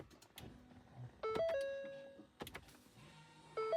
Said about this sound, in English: you should hear the parking brake motors actuate